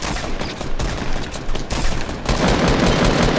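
Rapid bursts of video game gunfire rattle loudly and continuously, the volleys overlapping in dense automatic fire with no talk.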